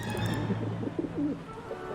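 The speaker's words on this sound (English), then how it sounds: "How am I supposed to get rid of that pigeon?" A pigeon in the video game Syberia: The World Before gives a low, throaty run of coos, close and moderately loud over faint ambient background, with no speech.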